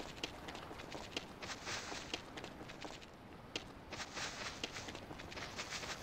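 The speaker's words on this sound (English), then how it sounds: "All I hear is footsteps in the wind" Footsteps crunch steadily in the Ys VI game world while a soft wind-like wash hangs beneath them, the steps light and evenly paced at moderate distance with occasional sharper taps.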